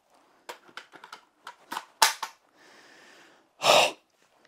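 Magazine swap on a newly unboxed M10 toy blaster: a quick run of sharp plastic clicks and snaps, a brief sliding rasp, then one louder clack as the magazine seats, close and clear with no talking.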